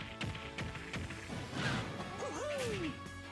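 Up smash attack landing in a Super Smash Bros match, a sharp crash-like hit followed by swooshing effects and a rising-falling tone, fairly close and clear.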